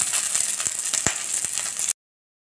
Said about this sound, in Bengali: উচ্ছে পাতাকেও চালের গুঁড়ি দিয়ে মাখিয়ে বড়া করতে দিয়েছি।